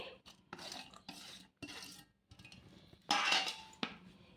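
Moong dal batter with chopped onion, green chilli, mint, ajwain and salt is mixed by hand in a bowl, making close scraping and squelching bursts in an uneven rhythm, with a louder clattering stretch near the end.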